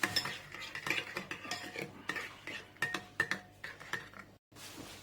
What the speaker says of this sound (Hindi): अब हम इन इंग्रेडिएंट्स को अच्छे तरीके से मिक्स कर लेते हैं।